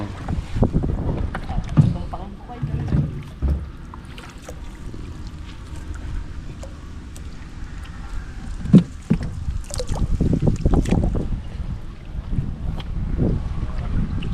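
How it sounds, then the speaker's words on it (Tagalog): A small outrigger boat, a bangka, is pushed through water at a fishpond, with splashing and sloshing bursts under gusty wind noise and occasional nearby voices. "Tulak mo bangka namin, pare."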